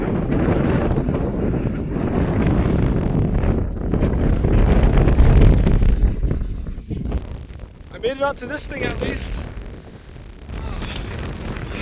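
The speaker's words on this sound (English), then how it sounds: "It's so windy up here." Strong wind at Great Sand Dunes buffets the microphone in loud, gusting roars, with a person speaking briefly near the end.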